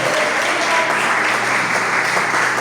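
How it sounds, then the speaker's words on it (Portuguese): Church congregation at a Pentecostal service applauds, a dense, loud, sustained wash of many hands clapping together with faint voices mixed in. "Louve o Senhor com as palmas por essa palavra maravilhosa"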